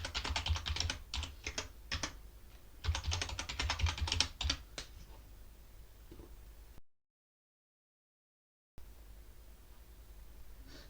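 Fingers type a password on a computer keyboard with quick bursts of close key clicks, pause, then tap a few more keys before a silent gap and faint hiss.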